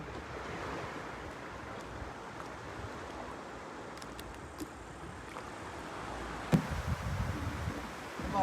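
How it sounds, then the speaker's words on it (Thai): Strong ocean waves at sea, a continuous broad wash of surf with wind buffeting the microphone, one sharper splash or knock near the end, steady and fairly loud with no voices. "คลื่นแรงมันก็เลยลงมีอยู่นะครับ"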